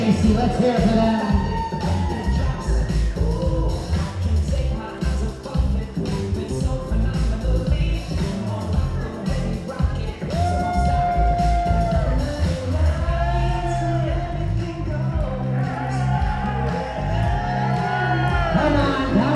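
Wedding guests cheer and whoop for bridesmaids making their entrance, a dense crowd roar with shouts and music running continuously and loud throughout.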